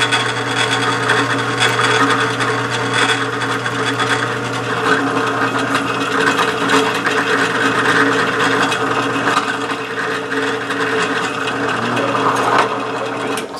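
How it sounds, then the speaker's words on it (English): Steady mechanical whirring and grinding of a lathe cutting metal with a center drill, continuous and fairly loud with a constant low hum underneath. "Continue center drilling this."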